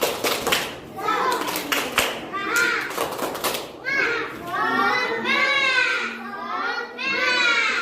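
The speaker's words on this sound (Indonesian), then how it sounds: "Tepuk semangat." Children perform the 'tepuk semangat' clapping chant at a school morning gathering: bursts of rhythmic clapping mixed with chanted voices, followed by kids calling out together loudly and close.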